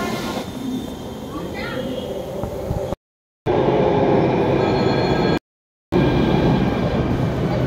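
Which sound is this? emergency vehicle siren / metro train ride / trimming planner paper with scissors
metro train ride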